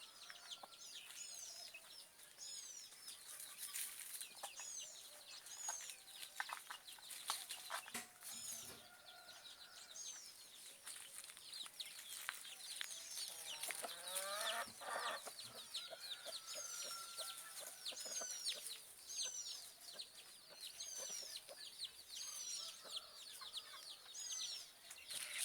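Birds in an open natural setting sing and squabble continuously, with repeated chirping calls, scratchy chatter and bursts of agitated noise, fairly faint and distant throughout.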